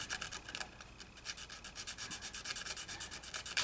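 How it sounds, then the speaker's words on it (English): Steady rhythmic rasping of a small Lexan sanding stick sanding back and forth, fast even strokes, close up and fairly quiet with no talking. "just using this like small piece of Lexan as a sanding stick"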